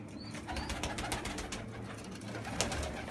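A pigeon coos softly in low, repeated calls from its nest in a wall, heard against a steady, noisy background.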